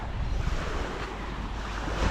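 Steady, cold wind rushes over the microphone as ocean surf at high tide churns loudly and continuously, a dense wash of noise with no pauses.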